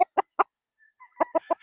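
Stag gamefowl rooster on a game farm giving several short, close clucks in two quick bursts, with a faint higher squawk between them.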